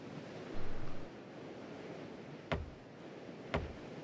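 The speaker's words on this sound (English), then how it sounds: "sailing over the open sea." Open-sea waves and wind wash steadily while a boat sails in the video game Salt, with a low swell near the start and two sharp clicks later on.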